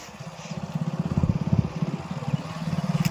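A motorcycle rides through a village, its engine throbbing in a fast, even pulse that grows louder and stays close throughout.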